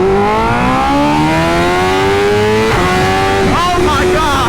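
A 2025 BMW S1000RR motorcycle launching hard under launch control, the engine note climbing steadily through the gears with a loud, rising howl, a brief shift break, then more revving with wind rush throughout.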